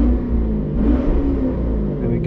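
A turbocharged LS3 V8 on a dyno rumbles loudly and climbs in revs as the throttle opens, a deep, steady roar with someone talking over it.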